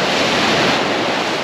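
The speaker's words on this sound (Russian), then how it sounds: "Вот смотрите, какая волна." Black Sea storm waves crash and roll onto a beach, a loud continuous wash of surf with wind noise on the microphone, no talking.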